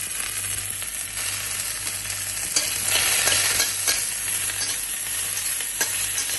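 Panch phoron spices fry in a hot wok with a constant crackling sizzle, broken by a few stirring scrapes and a brief swell of louder frying midway.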